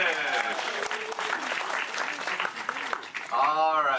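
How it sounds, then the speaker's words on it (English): An audience at a Disney World show applauds for the Moonfish, steady crowd clapping and some cheering that runs throughout at a strong level, with a voice talking over it and rising at the end. "Round of applause for the Moonfish!"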